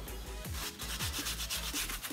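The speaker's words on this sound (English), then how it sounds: "Throw the sawdust off." Brushing sawdust off a wood carving cut on a CNC 3018 router, quick close rhythmic sweeping strokes, each a short soft swish.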